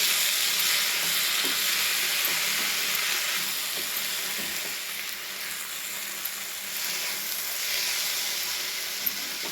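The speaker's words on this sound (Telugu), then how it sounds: "కడిగి పెట్టుకున్న పెసరపప్పు ఉంది కదండి దీన్ని వేసేయాలి చూడంత బాగా కలుపుకోవాలండి" Washed moong dal stirring through frying greens in a pan for ponnaganti leaf curry, giving a steady broad sizzle with soft scraping stir strokes throughout, no voices.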